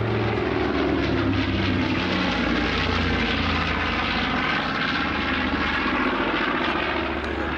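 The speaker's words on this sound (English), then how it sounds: "Powered by two 1700 horsepower Wright R2600 14-cylinder radial engines, a very distinctive sound there" A loud, steady drone of two Wright R-2600 14-cylinder radial aircraft engines at an air show, a deep throbbing roar that holds without a break from start to finish.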